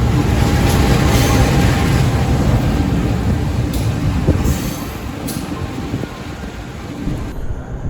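The Kutojaya Selatan passenger train rumbles steadily along the rails between Bandung and Yogyakarta, a loud continuous low roar with occasional metallic clacks, easing slightly toward the end.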